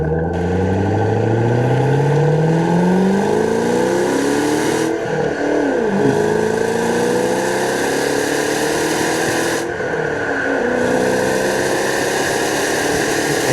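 A supercharged 2009 Ford Mustang Shelby GT500 engine revs up hard through rising gears, a loud continuous roar climbing in pitch with brief dips at each shift.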